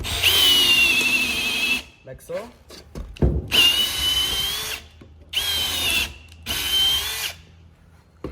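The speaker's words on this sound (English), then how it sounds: "I finish going through all the rest of the thickness of the rubber with a drill bit" A power drill whines through rubber in several sustained bursts separated by short pauses, loud and close, with a brief spoken remark between runs.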